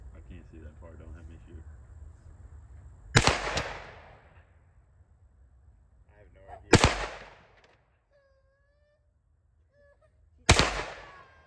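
Three sharp, loud gunshots from an AR 9mm rifle being sighted in with a scope, spaced a few seconds apart, each with a short ringing decay. Quiet talk and insect chirps sit in the background between shots.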